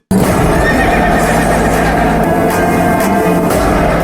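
A horse neighs loudly in a movie scene, repeated whinnies ringing over a dense, continuous background roar from start to finish.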